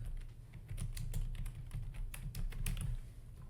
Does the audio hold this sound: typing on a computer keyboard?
yes